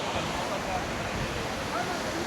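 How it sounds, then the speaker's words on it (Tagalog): Strong ocean surf washes steadily along Boracay beach in a broad, continuous roar with some wind rumble at the microphone, no clear break between waves across the short stretch. "Lakas lang talaga yung alon ngayon."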